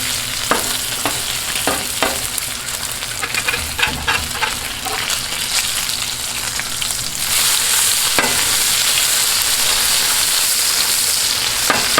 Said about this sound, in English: This row of bacon over here looks like it's about ready to be flipped